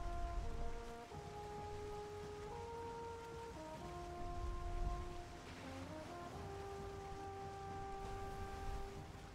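Rain falls at sea in Valheim, a soft wash of rainfall and waves around a boat, faint and continuous beneath steady sustained musical tones, with no speech.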